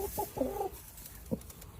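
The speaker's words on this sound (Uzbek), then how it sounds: "Jo'ja xo'rozlar." Young roosters clucking close by, a short burst of soft clucks followed by a single cluck after a brief pause.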